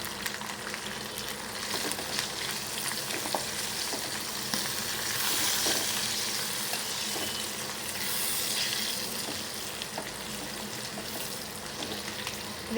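Garlic, green chillies and turmeric fry in a pan for a mint and curry leaf chutney, giving a steady close sizzle and crackle with a few swells of louder spitting, and no voices over it.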